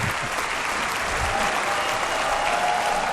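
Audience applause at the Apple Watch and iPhone 6 announcement event: a dense, steady wash of clapping from a large crowd that holds at an even level for the whole stretch, with no speech over it.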